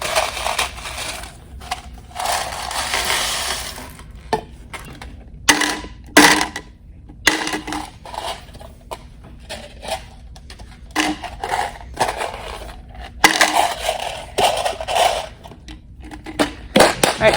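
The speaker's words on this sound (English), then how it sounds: "shaker number 3 with the marbles in the bottom" Marbles rattling inside a homemade shaker, shaken in irregular bursts of loud, crunchy clatter separated by short pauses, close up with no talking.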